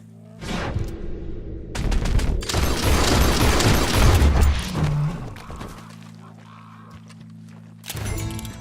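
Gunshots in the Red Dead Redemption 2 video game: a flurry of loud cracks and booms in quick succession over a few seconds, then quieter stretches and one more burst near the end.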